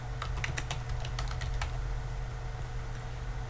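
Typing on a computer keyboard while setting up a scenario in a pulmonary auscultation simulation application; a quick run of close, crisp key clicks over a steady hum for about a second and a half, then stops with only hum left.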